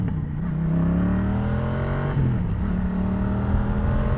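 A 2017 Yamaha Tracer 700 A2 motorcycle engine revs loud and close. Its pitch climbs, drops briefly about halfway through, then rises again with no talking over it.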